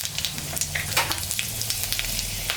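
Panch phoron and dried red chillies sputter in hot oil, a close crackle with quick popping spits over a continuous sizzle.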